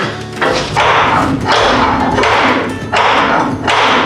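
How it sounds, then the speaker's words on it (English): Loud, close metallic banging in bursts, several heavy hammer strikes on a stuck truck part with short pauses between them. "Okay, Hayden, go grab a hammer."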